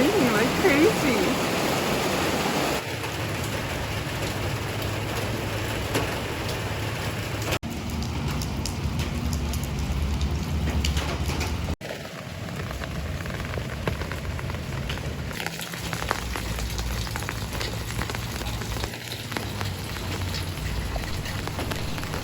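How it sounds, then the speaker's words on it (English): Heavy rain pours down steadily in a continuous dense hiss and patter throughout, with a few abrupt shifts in level and some faint background clatter, no voices. "It's raining like crazy."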